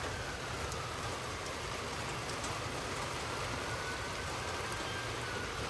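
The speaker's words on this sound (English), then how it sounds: "the rain just died down a little bit" Steady rain falling during a thunderstorm in Frisco, Texas, a soft, even hiss with no breaks and no voices.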